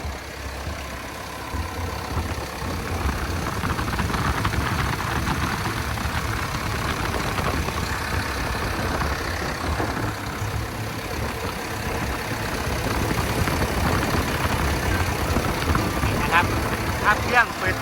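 A Kobelco SK200-9 excavator's diesel engine idles steadily with a low, rough rumble and faint knocking, continuous from start to finish.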